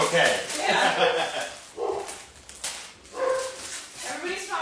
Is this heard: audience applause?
no